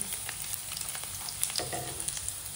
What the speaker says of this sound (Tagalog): Ayan na yung mantika. Lagay na natin yung bawang.